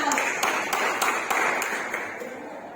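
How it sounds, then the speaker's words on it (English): Several people clapping in a fairly small group during a business communication talk, a brief round of moderately quiet, uneven claps that tapers off. "Give a big round of applause for him, Rita."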